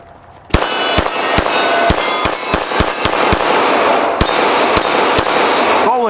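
Rapid bursts of gunshots fired at bowling pins, a dozen or so sharp, loud cracks in an uneven quick rhythm over a steady rumbling background, starting abruptly and running to the end.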